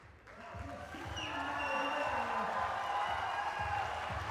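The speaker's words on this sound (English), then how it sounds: "Well, you just hear the reaction of the crowd." Crowd cheers and applause at the women's 10m air rifle World Cup Final in New Delhi, a steady swell of reaction filling the hall under a commentator's voice.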